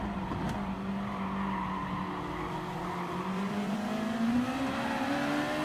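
Race cars sliding in Gran Turismo Sport at the Red Bull Ring, Gr.2 class: a continuous engine whine rising and falling with tire squeal as the cars slide around a corner.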